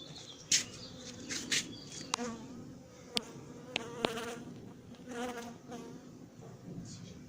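A honeybee swarm hangs in place while being collected with a cardboard box and smoke, giving a close, continuous buzz and whine, with individual bees zipping loudly past at intervals.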